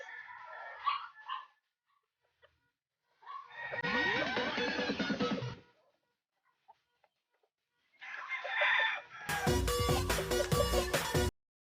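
Chickens cluck and squawk in bursts separated by quiet gaps at feeding time, with a rooster's crow and other loud bird calls near the end.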